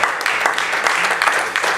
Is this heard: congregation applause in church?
yes